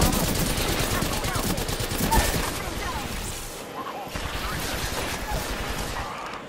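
Rapid bursts of gunfire crackle through an Apex Legends firefight, loud and continuous, with overlapping shots and a heavy impact near the start, while a player talks over the action.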